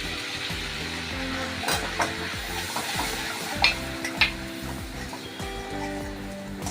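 Red chilli for colour sizzles in a little hot oil for a dhaba-style shahi paneer, with a steady crackle and several sharp stirring scrapes and clinks of a spoon against the pan.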